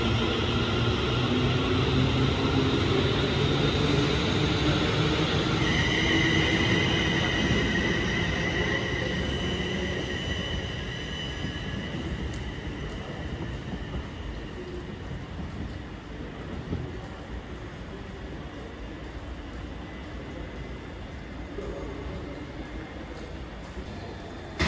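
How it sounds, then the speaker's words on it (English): A Class 350 electric multiple unit departs Stoke-on-Trent station for Crewe, a loud rolling rumble with motor whine and a brief rising tone, fading steadily as the train draws away along the platform. "the train now departing is another 350 going to Crewe"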